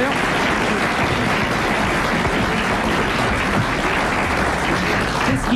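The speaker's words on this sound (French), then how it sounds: "nous allons applaudir Monsieur Lagaule de Sancerre" Studio audience applause on the French comedy panel show Les Grosses Têtes: dense, steady clapping that fills the room continuously and evenly from start to finish, with no voices standing out.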